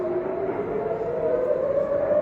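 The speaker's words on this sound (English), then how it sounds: "if you hear the sirens like this, it means the threat is near" An air raid warning siren wails in Israel, a steady, sustained tone that slowly drifts in pitch, heard at a distance with no voices.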